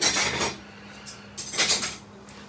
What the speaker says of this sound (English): there's way more in this dishwasher than there should be.